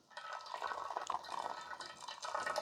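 Hot water streams quickly from a tilted COSORI gooseneck electric kettle, a soft, close splashing and trickling pour lasting a few seconds.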